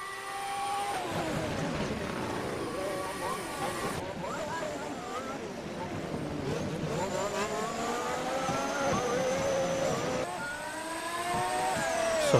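Race cars from a racing video game battle side by side for the lead at Spa Francorchamps, their engines whining and revving steadily throughout with shifting pitch and a commentator talking over them.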